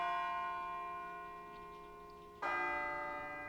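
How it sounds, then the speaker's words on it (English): Deep, resonant bell tolls in Persona 3 Portable: one long ringing stroke fades slowly, then a second strike sounds and sustains with rich lingering overtones, alone and fairly close. "It sounds like a bell, but where's it coming from?"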